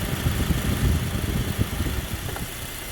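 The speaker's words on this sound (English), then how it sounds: "the clutch compressor is cycling now. So is the fan." Under the hood of an idling 2010 Acura TSX, the AC compressor clutch cycles and the cooling fan spins, giving a close, steady engine rumble with uneven low thumps and whirring.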